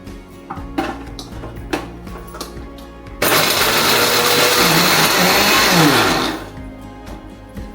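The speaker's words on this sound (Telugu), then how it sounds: "ఈ గ్యాప్లో మనం పచ్చి కొబ్బరి పీసెస్ని గ్రైండ్ చేసుకున్నాము" A kitchen mixer grinder grinding fresh raw coconut pieces: some clicks and handling noise, then a loud whirring motor roar of about three seconds that winds down.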